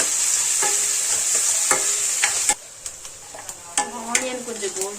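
Onions dropped into hot oil with popping mustard seeds in a home kitchen make a loud hiss that drops off abruptly, followed by scraping stirs and sharp clacks of a spoon against the pan.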